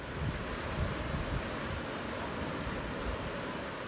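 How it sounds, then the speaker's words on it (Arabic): Sea waves wash along the shore at Koh Samui island, Thailand, as a continuous rumbling surge mixed with buffeting wind noise on the microphone and no voices. "أراويكم الأجواء كيف، شوفوا البحر ما شاء الله."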